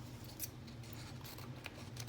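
Scissors are handled during a crafting session at a table, giving faint clicks and a sharp snip near the end over a quiet, low room hum.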